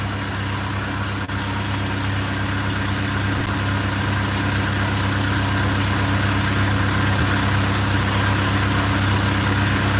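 Video game vehicle engine idling or cruising while driving around, a steady, loud low rumble with constant mid hum and slight vibration, unchanging across the whole stretch with no voices.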